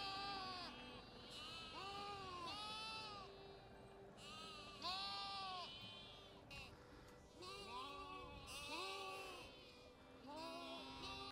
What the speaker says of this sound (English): I think the sheep have maybe just been fed.